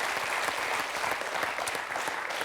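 Studio audience of several thousand clapping in a quiz show hall, a dense, continuous patter of applause at moderate level with no talk over it.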